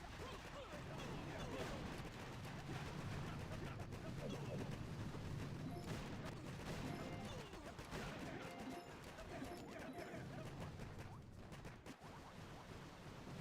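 Artillery barrage fire in the Boom Beach Warships mode, a dense, continuous rumble of blasts and crashing impacts that lasts throughout, with a person talking over it.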